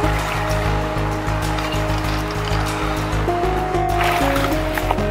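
A flowing stream beside a parked RV on a hot day in the Pacific Northwest gives a steady, broadband rush of water close by, with a low hum and faint tonal lines underneath.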